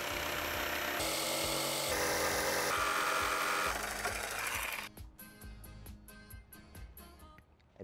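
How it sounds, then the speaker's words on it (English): A power saw cuts from a drilled pilot hole while building a vertical garden, buzzing loud and steady at close range, then dropping to a rattling, stuttering run as the cut winds down. "This is the saw we're gonna use for this."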